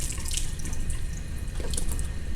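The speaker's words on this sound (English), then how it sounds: "So all I'm doing is I'm filling this up with water" Tap water pours steadily into a container with holes in it during a pressure demonstration, a continuous close hiss and splash with faint dripping and no talking.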